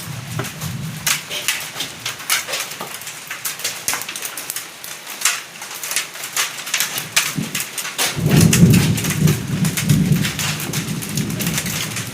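Heavy spring rain pours steadily in a thunderstorm, with a dense wash of drops striking surfaces throughout and a deep rumble of thunder swelling in the last few seconds. No one speaks.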